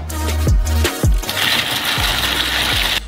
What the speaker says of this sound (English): We cover everything up with a lid and install in the mixer.